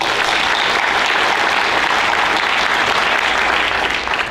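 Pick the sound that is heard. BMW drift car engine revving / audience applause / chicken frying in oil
audience applause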